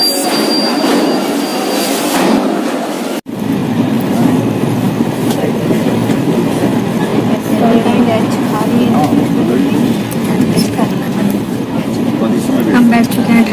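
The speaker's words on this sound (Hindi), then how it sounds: "हम बैठ चुके हैं ट्रेन में, हम जा रहे हैं कालका। ट्रेन चल पड़ी है हमारी।" A moving train on the Kalka route gives a steady loud rumble with rattling carriage noise throughout, broken by one brief dropout, with voices inside the coach.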